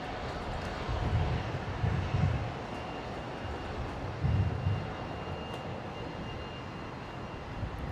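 Jetstar's Airbus A321neo arriving from Auckland at Brisbane Airport gives a faint, distant, steady engine rumble with a few low swells, heard outdoors with no talk.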